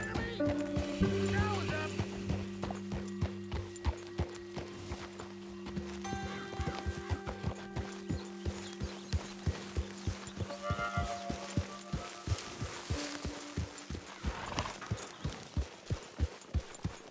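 Horse hooves clip-clop in a steady rhythm in Red Dead Redemption 2, close and crisp, accompanied by a whinny, mechanical clicks and background music-like tones.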